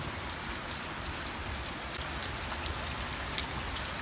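Steady rain falls on a garden with puddles, a constant hiss, with occasional sharper drips and patters standing out against the even downpour.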